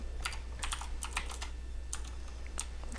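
Quick bursts of keystrokes on a computer keyboard, several clusters of light clicks in an irregular rhythm, close and fairly quiet over a low steady hum.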